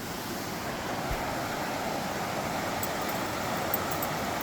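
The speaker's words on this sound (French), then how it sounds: "Regardez la rivière." An outdoor river flows at a campsite, a constant broad rushing wash mixed with wind noise on the microphone, steady and fairly loud with no speech.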